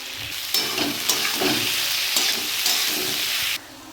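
Drumstick flowers are tipped into a hot spiced frying pan, raising a loud, steady hissing sizzle with a few soft stirring knocks, which cuts off abruptly near the end.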